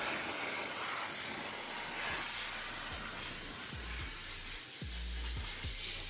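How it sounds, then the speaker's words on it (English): Steam cleaner hissing steadily while cleaning the underside of a car in a workshop, a continuous loud broadband jet with a few low thumps near the end. "Mikey's just steam cleaning the underneath a minute."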